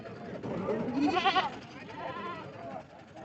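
At the Bolda goat market in Hingoli, a goat gives a wavering bleat close by over a crowd hubbub, followed by fainter cries from other animals while people talk in the background.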